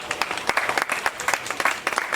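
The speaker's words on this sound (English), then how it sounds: "Big round of applause for this gator, guys." A crowd claps steadily after an alligator show at Miccosukee Indian Village, dense overlapping hand claps forming a continuous burst of applause, fairly close and moderately loud.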